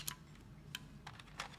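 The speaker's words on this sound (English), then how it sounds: "There's something wrong with the keyboard. Why does it sound like that?" Mechanical keyboard with an odd, faulty-sounding keystroke response, heard as four or five sharp, separate clicks spaced across a quiet moment, fairly soft over a steady low hum, with no one talking.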